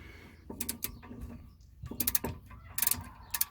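A 14mm caliper bolt on a 1998 Honda Civic is cracked loose with a ratchet, giving several close bursts of quick mechanical clicking separated by short pauses.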